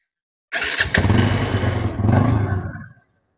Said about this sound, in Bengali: বাইকটি দিয়ে স্টার্ট দিই আমি